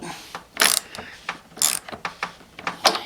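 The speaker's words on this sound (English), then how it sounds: "use a ratchet and a socket to tap it all the way in as far as you can get it" A ratchet and socket drive a tap into a hard plastic LS-series intake, with short bursts of sharp ratchet clicks repeating in a close, uneven rhythm and no talk.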